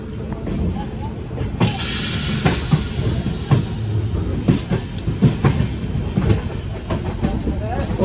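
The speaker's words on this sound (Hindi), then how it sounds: "देख सकते हो पीछे ट्रेन हमारी चल रही है" A long-distance daily train from New Delhi to Chennai Central rumbles along with a steady low roar, hiss and rhythmic rattling clatter throughout, while someone talks over it.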